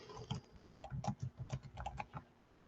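Bursts of computer keyboard keystrokes in quick, uneven succession, close and fairly quiet, with no voices, while notes are made on a classroom digital whiteboard.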